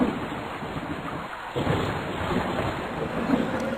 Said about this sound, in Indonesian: Lalu turunlah hujan tersebut sampai ke bumi.